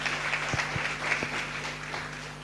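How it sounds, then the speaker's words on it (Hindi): Church congregation applauding, a steady wash of hand claps filling the room with a few sharper claps standing out, under a low steady hum. "ताली बजा के प्रभु को धन्यवाद।"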